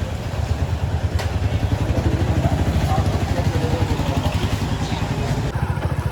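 A motorcycle engine runs with a fast, steady pulsing throb and some mechanical clatter, close and fairly loud the whole time, while people talk over it.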